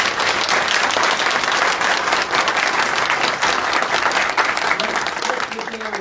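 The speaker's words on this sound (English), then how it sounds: "Let's give Mateo a big round of applause." Steady audience applause fills a school board meeting, a continuous dense wash of clapping from many hands that holds for several seconds and tapers slightly at the end.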